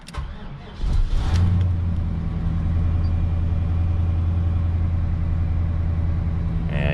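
A 1979 Chevrolet Caprice fitted with a fourth-generation LT1 V8 cranks briefly after a single spoken word, catches, then settles into a steady, rumbling idle close by for the rest of the clip.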